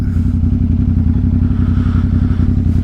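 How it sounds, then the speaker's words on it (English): A Ducati motorcycle engine idling while warming up on a frozen winter day, loud and close, with a steady deep pulsing throb and a faint mechanical clatter. "Let my bike warm up a little bit more."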